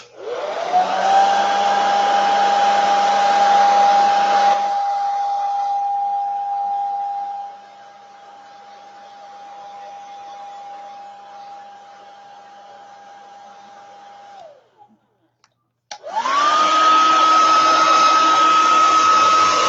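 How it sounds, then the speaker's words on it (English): A hair dryer blows loudly, drops to a lower setting, cuts off briefly, then roars back on at full power. "In fact, I'm going to hit it with the dryer here."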